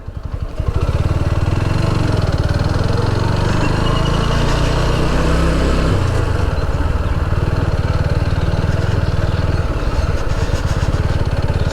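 A motorcycle engine runs steadily at close range in a parking area near a zamindar palace in Rangpur, a loud, even, rumbling idle that holds throughout.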